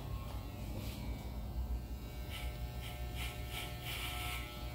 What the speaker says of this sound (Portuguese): primeiro eu vou trabalhar com a máquina 4 na nuca